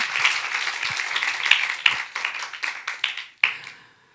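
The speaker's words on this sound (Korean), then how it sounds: "우리 주님께 박수해야 돼." A church congregation at a Friday night worship service gives a short burst of applause. It thins into scattered, distinct claps that fade, then picks up briefly again before dying away.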